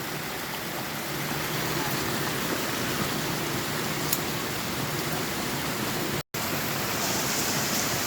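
Steady, roaring rush of a waterfall in the forested Phu Phan mountains, loud and constant from close by, broken only by a brief dropout.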